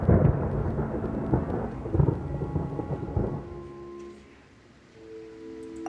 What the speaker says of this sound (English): Paimon, here's thunder!